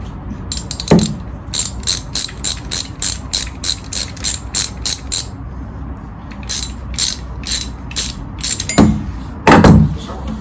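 A ratchet clicks rapidly in repeated bursts while tightening bolts on a Smart 450 engine, close and loud, with short pauses and a couple of heavier clunks between strokes.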